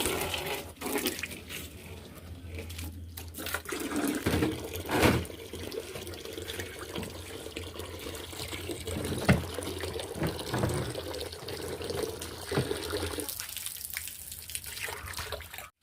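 Tap water runs steadily while an algae-covered fish tank is rinsed and scrubbed clean. The flow is close and continuous, with occasional louder splashes and knocks.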